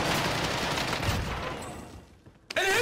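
Rapid bursts of gunfire in the video game Warzone, a dense loud rattle that fades over about two seconds before a sharp final shot and the start of game sounds.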